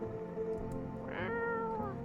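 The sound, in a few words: cat meowing in the video game No, I'm Not A Human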